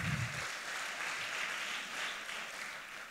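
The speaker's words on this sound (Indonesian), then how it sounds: "Beri tepuk tangan buat kita semua" An audience claps together after a motivational talk, a dense, even wash of applause filling the room for the whole stretch, steady and moderately loud.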